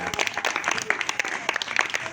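Enthusiastic clapping from an audience at a children's home event, uneven bursts of claps at close range that fill the whole moment without any talk.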